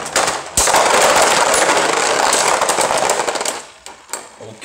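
Beyblade Burst spinning tops launched into a stadium on stamina mode, a loud, dense rattling clatter of plastic tops grinding and colliding that runs steadily for several seconds before tapering off.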